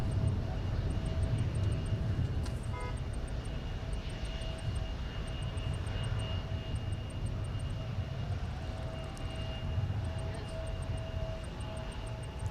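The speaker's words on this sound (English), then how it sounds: "KLM 250, now on the roll, headed to AMS" A KLM jet airliner rolls for takeoff at Minneapolis–St. Paul airport, giving a steady, broad engine roar that holds at a constant level throughout, with a faint tonal whine over it.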